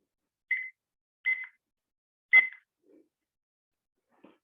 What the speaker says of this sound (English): Let me get my timer here.